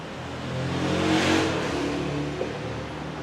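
A motorcycle engine idles steadily at about 1500 rpm, a close mid-pitched hum that swells slightly in the middle and then settles, with no talking over it.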